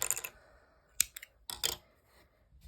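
Scissors snip crochet yarn in a few short, close, crisp cuts separated by quiet pauses.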